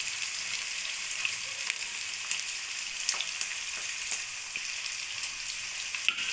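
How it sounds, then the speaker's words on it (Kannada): Onions fry with capsicum in a pan for capsicum chitranna, a steady close sizzle with faint scattered pops and scraping clicks throughout and no talking. "ಈರುಳ್ಳಿನೂ ಚೆನ್ನಾಗಿ ಕೆಂಪಾಗೋವರೆಗೂ ಫ್ರೈ ಮಾಡ್ಕೊಳ್ಳೋಣ."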